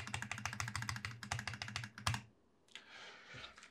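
A stock factory mechanical keyboard typed on quickly, its dense clacking keystrokes close and clear, then a pause and a softer rustle of handling.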